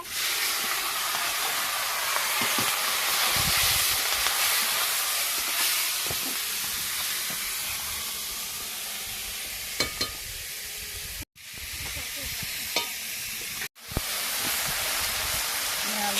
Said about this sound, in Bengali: এবার আমি মাছগুলো দিয়ে দিচ্ছি কড়াতে।